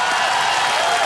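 Studio audience applause on a televised quiz show set, a dense, loud, continuous wash of many hands clapping close up, with no gaps.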